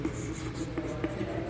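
Chalk or pen writing on a board during a Hindi maths lesson on Euclid's division algorithm, a continuous scratchy stroking with brief taps, close and steady, with no talk.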